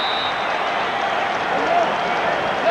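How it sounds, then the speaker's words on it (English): A stadium crowd at a CFL football game between the Ottawa Rough Riders and the BC Lions jeers a kicker, a broad, distant roar of crowd noise running steadily beneath a commentator's talk. "Now the BC crowd getting on Baker and razzing him a little bit"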